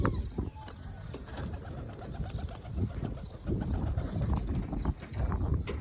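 Pet pigeons roosting up high in a loft, cooing steadily at close range among rustling and faint background noise, with no talk.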